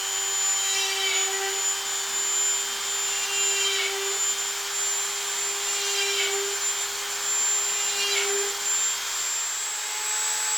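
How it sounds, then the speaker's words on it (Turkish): A steady, high-pitched whine of a small rotary drill running close by, drilling holes along drawn patterns in a bottle gourd, with a gritty scraping surge every couple of seconds as it bites in. "Daha önce başladığımız bir kabakta size delme işlemini göstermek istiyorum."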